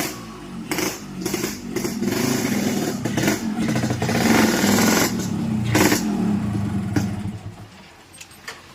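A motorcycle engine revs and roars close by for several seconds, rising and falling in bursts with some background clatter, then easing off toward the end.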